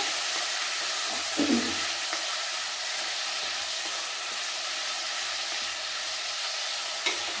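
Eggplant masala for vankaya ullikaram, with turmeric, stirred in a frying pan: a steady hiss of sizzling oil throughout, with a soft scrape or two from the spoon and no voices.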